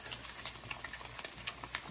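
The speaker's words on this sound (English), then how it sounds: "we got our fried eggs going" Fried eggs cooking in a pan give off a soft, steady sizzle with scattered small pops and crackles, close and fairly quiet.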